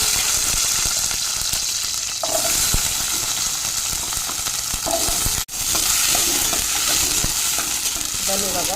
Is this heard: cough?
no